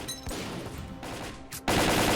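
Gunfire in the video game S.T.A.L.K.E.R.: Call of Pripyat comes as loud, close automatic bursts, a few rapid shots followed by a sustained heavier volley at the end.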